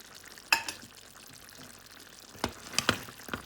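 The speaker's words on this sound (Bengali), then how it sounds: "এই পর্যায়ে দিয়ে দিচ্ছি একটা টমেটো কাটা" Chopped tomato goes into chicken curry frying in a pan, giving a soft low sizzle with a sharp clatter of pieces dropping in at the start and a few louder scrapes and clinks near the end.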